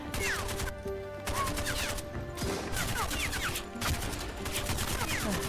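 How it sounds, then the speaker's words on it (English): Video game gunfire, with dense continuous bursts of rapid shots and ricochet-like whines filling the whole stretch, loud and sustained with only brief lulls, and faint talk underneath. "these guys shooting at him suck"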